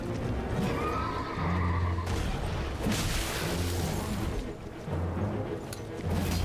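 A horse whinnies loudly amid Elden Ring combat noise while fighting the Night's Cavalry, with hoof clatter and heavy impacts throughout.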